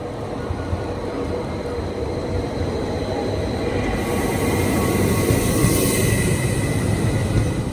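A train from Helsinki airport into the city rolls along the rails with a constant rumbling roar and a thin metallic whine, the noise growing slightly louder partway through.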